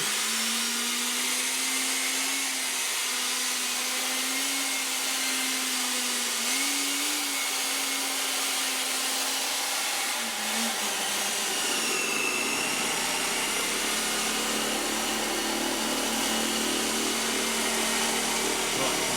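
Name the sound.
electric polisher buffing Danish oil into an oak table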